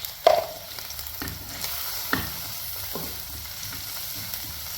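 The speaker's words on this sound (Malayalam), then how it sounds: "ആദ്യം ഉള്ളിയും പച്ചമുളകും ഒന്ന് ചേർത്തിട്ട് ഒന്ന് വഴറ്റി കൊടുക്കുന്നുണ്ട്." Onions and green chillies sautéing in a pan, a soft steady sizzle with a few sharp utensil scrapes and knocks as they are stirred; no talking.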